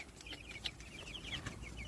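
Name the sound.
young chickens clucking in a chicken tractor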